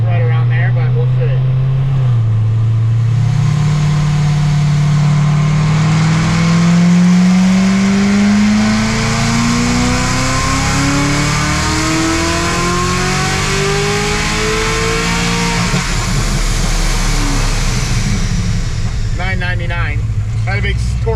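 A Corvette C7 Z06 making about 1250 horsepower revs on a dyno in one long pull, its engine note climbing steadily and loud up close, then dropping off near the end.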